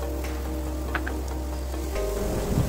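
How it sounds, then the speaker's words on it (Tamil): Finely chopped garlic fries in hot oil in a pan, a close, steady sizzle with a few soft crackles and a low hum, brightening briefly near the end. "எண்ணெய் நல்லா காஞ்ச பிறகு 1 டேபிள் ஸ்பூன் நல்லா பொடியை நறுக்கின பூண்டு அதில் போட்டுக்குங்க."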